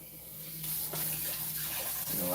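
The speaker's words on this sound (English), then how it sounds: "I'm gonna let the hot water run a bit" Hot water runs steadily from a kitchen tap, a broad continuous splashing hiss that grows slightly louder, with a faint hum underneath.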